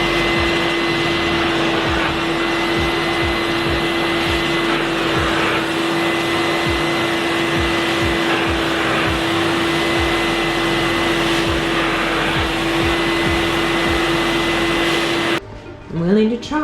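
A carpet shampooer works over a tough, well-worn low pile rug in a mobile home, a loud steady motor whine with rhythmic scrubbing passes, cutting off near the end before a short bit of talk.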